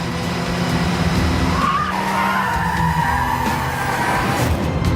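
A car skids with tires squealing in a rising and falling screech over a loud engine rumble, close and continuous for several seconds, with no speech.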